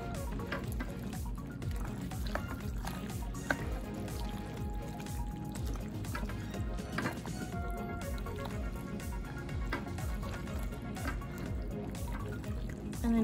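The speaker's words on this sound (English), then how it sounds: "And I'm gonna stir it up." A thick crock pot dish with grated parmesan is stirred by hand, giving steady wet squishing and dripping through the clip, close and moderately loud with no talk over it.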